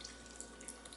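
A faint, steady trickle of cold water mixed with beef bouillon paste pours into a crockpot of chili, a soft continuous liquid wash with no voices.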